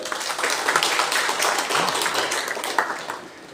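An audience claps together in sustained, dense applause at a spiritual training gathering for Indo-Tibetan Border Police personnel, holding steady for a few seconds before fading at the end.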